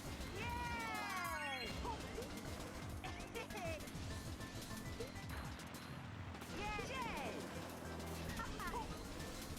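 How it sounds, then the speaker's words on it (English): Wind-up kitty cat toys meow repeatedly in Mario Kart Wii. The rising and falling cartoonish mews sound over steady racing music and engine hum, with a short crash-like hit in the middle. "Little wind-up kitty cats."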